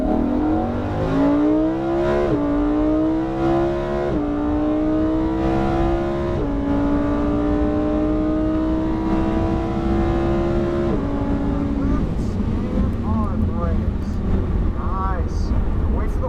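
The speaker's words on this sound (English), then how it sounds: "Full throttle." A Lamborghini Huracan accelerates at full throttle down the front straight at PIR, its engine note climbing loudly and repeatedly, with distinct upshifts breaking each rising sweep before it eases off near the end.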